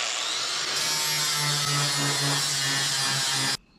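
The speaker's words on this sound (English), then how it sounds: "Then we'll work it down with the grinder." An angle grinder works down a small spot weld on steel sheet metal during a truck build, holding a loud, steady high-pitched whine for several seconds before cutting off abruptly.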